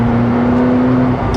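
A McLaren 720S engine drones at steady, fairly loud volume from inside the car, with a smooth, even pitch and little rumble that holds throughout.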